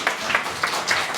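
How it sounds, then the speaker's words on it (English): Short burst of audience applause at a startup ecosystem panel event, a steady patter of clapping hands from a modest crowd, close and moderately loud, with no talk over it. "Let's give them a round of applause"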